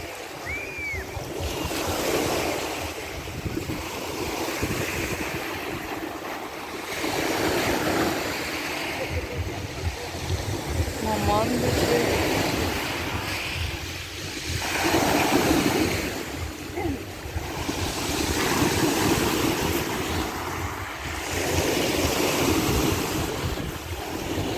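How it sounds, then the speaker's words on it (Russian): Sea waves roll onto a beach in Turkey in warm weather, surging and receding every few seconds at moderate loudness, with wind noise on the microphone and a voice speaking briefly now and then. "И вот оно и морюшка."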